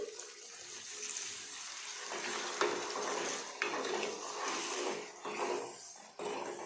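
Water is poured into a pot of usal in a full, continuous rush, with brief surges and a splash near the end.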